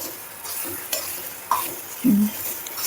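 Semolina (rava) frying in ghee for ravva laddu, a soft steady sizzle broken by separate scrapes and taps of a spoon stirring in the pan, heard up close and with no voices.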